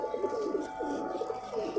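A captured patti wala pigeon coos close by, repeating soft throaty coos in an uneven rhythm over a quiet background.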